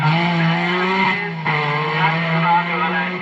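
A 1978 RAC Rally car's engine roars and revs at high pitch with a brief tire squeal, sounding close and aggressive throughout.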